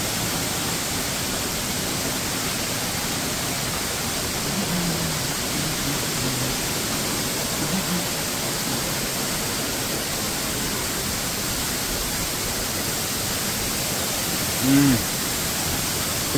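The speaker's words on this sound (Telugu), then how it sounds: "అదిగోండి మొత్తానికి మనం వాటర్ ఫాల్స్ వెనకాలకి వచ్చేసాం." Steady broadband roar of an Oregon waterfall heard from behind the falling water in a cave-like hollow, constant and close throughout, with a brief faint voice near the end.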